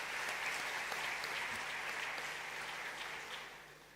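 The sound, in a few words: audience applause at a climate summit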